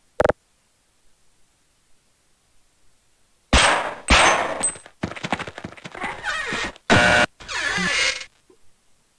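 Loud, abrupt bursts of gunfire from the game They Hunger come in a cluster of about six clipped, clanging blasts after a mostly quiet stretch with one brief early crack.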